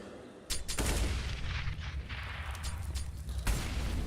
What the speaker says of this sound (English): Preemptive grenades from Astralis towards the apartments.